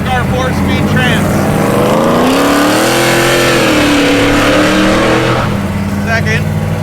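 A car engine from a 4-speed transmission swap with a 3-speed shifter revs loud and close, its pitch sweeping up and down as it shifts through gears, with a brief voice near the start and end.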